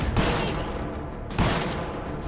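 Two heavy booming blasts, an action-movie style explosion effect in the VR game H3VR, each with a rumbling decay, loud and close.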